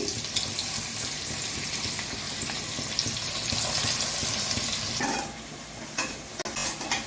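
Chopped onions drop into hot oil in a pan for a Chennai-style fish curry, hissing and sizzling loudly and steadily, with a brief clatter and stirring near the end.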